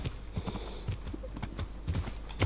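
A horse's hooves clip-clop in Kingdom Come: Deliverance, a rapid, even run of close hoofbeats with game ambience behind them.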